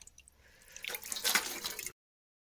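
Water gushing from a solar-powered pump, starting as faint trickles then swelling into a close, splashing rush for about a second before stopping abruptly.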